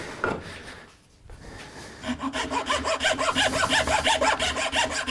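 A Japanese rasp carves a hollow into the top of a wooden piece, making a close, loud, rhythmic series of scratchy rasping strokes after a brief initial scrape and short pause.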